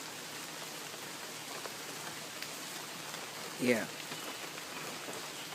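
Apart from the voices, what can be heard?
heavy rain at a campsite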